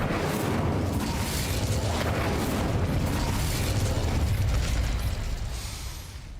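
Incendio fire spell cast in Hogwarts Legacy, a loud, dense roaring whoosh of flame that holds steady for several seconds before tapering off at the end, with no talking over it.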